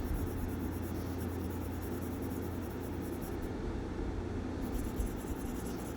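A pencil shades the shadow between the upper and lower lips of a mouth drawing, giving a steady, soft scratchy rasp that runs unbroken and close, with no talking.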